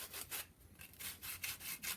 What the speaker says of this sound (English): now I got to sand the insides of these